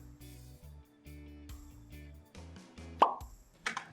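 A cartoonish pop for a thumbs-up animation: a single sharp, bright plop near the end, then a quick second burst, over a bed of busy background music.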